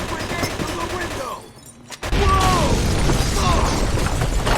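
Gunfire in a war video game crackles in dense rapid bursts, breaks off into a short quiet gap, then returns louder and continuous with whistling, ricochet-like streaks over the shooting.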